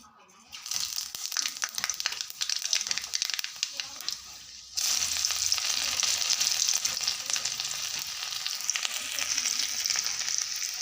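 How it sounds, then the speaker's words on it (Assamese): A vegetable fry with potatoes sizzles loudly in a pan while being stirred, with scraping and crackling, beginning faintly then growing fuller and steady partway through. "মই ভাজিখিনি খুব সুন্দৰকৈ লৰাই দিছোঁ।"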